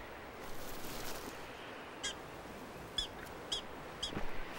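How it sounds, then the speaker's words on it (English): Prairie dog alarm calls in an outdoor grassland colony: a few short, sharp yapping chirps spaced about a second apart, fairly faint over steady outdoor background noise, with no talking. "Hear that? That's a prairie dog."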